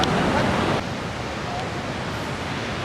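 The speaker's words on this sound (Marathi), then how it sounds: "लाट आली." Swollen ocean waves surge onto the shore at Ganpatipule beach as a broad, loud rush of surf that eases into a steady wash, with wind buffeting the microphone.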